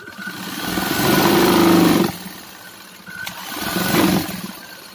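A sewing machine motor whirs loudly at high speed in two long surges that rise and then drop off, close up and buzzy, with no voices.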